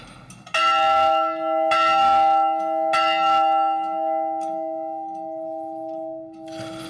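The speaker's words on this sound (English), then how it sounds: "You can ring the bell." A bell rung inside an abandoned building gives three loud, clear strikes, each leaving a long, bright, ringing tone that slowly fades, with faint rustling between strikes.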